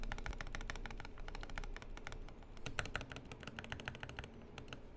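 Custom lubed Asus ROG Azoth mechanical keyboard being typed on, a steady run of crisp, close key presses with a few heavier thocks from the left shift and spacebar, alone without talk.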